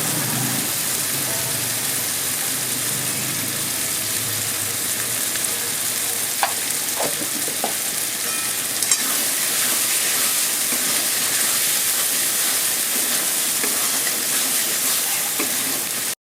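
Spice masala frying and being stirred in a pan for a desi mutton curry makes a loud, continuous sizzle with occasional scraping clicks from the spoon, steady throughout and without speech.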